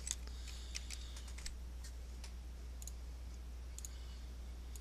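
Light clicks and taps on a computer keyboard come in small irregular clusters over a steady low electrical hum, quiet and close, with no voices.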